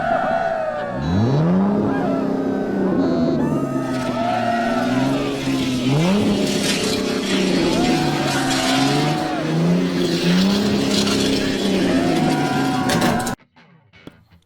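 A Pagani and a Corvette race hard, their engines revving loudly and continuously with repeated rising and falling gear shifts in a steady roar that cuts off abruptly near the end.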